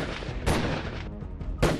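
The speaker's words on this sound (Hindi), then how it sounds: "इस बार कार के बिल्कुल पास आकर गोलियां बरसाते हैं।" Loud gunfire cracks out near a car. Several heavy blasts and bursts come in quick succession, with sharp peaks about a second apart over a harsh, continuous rumble.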